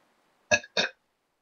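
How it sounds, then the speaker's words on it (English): A person lets out two short, close burps in quick succession, each a throaty croak, with silence before and after. "Oh, I just burped."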